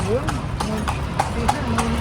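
Hooves of a horse pulling a carriage through Lampang clip-clop in a steady, even rhythm of about six distinct strikes, close and clear, while people talk nearby.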